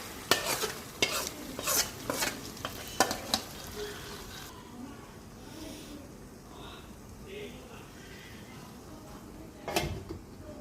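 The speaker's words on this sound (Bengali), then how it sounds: "এখন ডালগুলো দিয়ে ভালো করে কষাবো" Lentils being stirred and sautéed with spices in a pan, a series of sharp spoon scrapes and clinks over a soft sizzle, then a quieter stretch with one last clatter.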